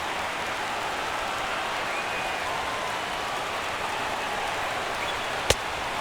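Broadband roar of a large baseball stadium crowd of about 39,000 on their feet in MLB 17 The Show, Red Sox at Tigers, a steady wash of cheering that runs throughout with one sharp click near the end.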